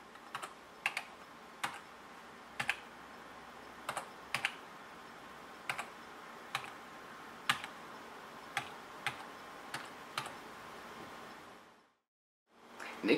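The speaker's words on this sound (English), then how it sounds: "You can change the note value with the numbers on your keyboard accordingly." Single computer keys click at irregular intervals, about a dozen crisp, close taps, while notes are entered in Forte 7 notation software, with a quiet room hiss behind and a brief silence near the end.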